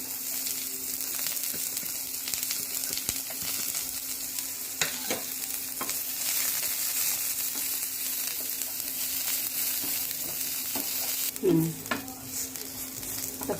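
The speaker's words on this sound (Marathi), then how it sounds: "कांदा आपल्याला लास्टसर भाजायचा आहे" Onion roasts in a pan for Maharashtrian kat vada, with a steady close sizzle, occasional stirring scrapes and a brief louder clatter near the end, no voices.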